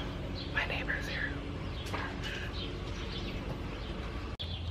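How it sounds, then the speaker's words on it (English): Birds chirp and call outdoors during a run, faint and distant, underneath close breathy whispering and steady background noise. "All these birds are just singing."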